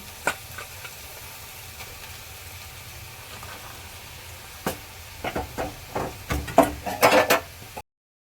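Boiled, drained banana flower drops into a pan of frying spices with a splash of water, giving a burst of sizzling and clattering stirring in the last few seconds after a quieter, steady background.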